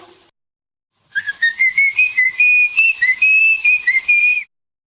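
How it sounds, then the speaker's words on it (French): A solo whistled melody by Peter Lorre from Grieg's Peer Gynt in Fritz Lang's 1931 film M, a clear, close series of rising and falling notes lasting several seconds before stopping. "siffle un air tiré d'une musique connue, du compositeur norvégien Edvard Grieg, de Per Gynt"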